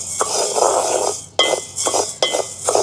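Green gram being stirred as it roasts in a pan, a metal spoon scraping and clinking against the pan in repeated strokes, close and fairly loud with short pauses between.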